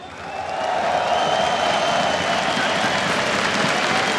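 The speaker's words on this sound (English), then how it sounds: "Ladies and gentlemen, make some noise once again." A large crowd cheers and roars steadily at a CS:GO grand final at EMS One Katowice, the noise swelling up within the first second and then holding loud and dense throughout.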